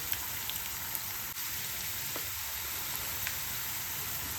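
Potato pieces fry in oil with a steady, fine hiss and sizzle that stays close and even, with faint scattered pops and no one speaking.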